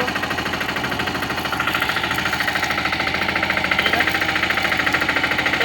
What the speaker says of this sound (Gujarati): ટ્રેક્ટરના ટાંગા ફરે છે જોઈ શકો